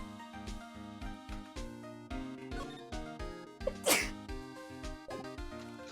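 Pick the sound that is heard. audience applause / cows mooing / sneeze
sneeze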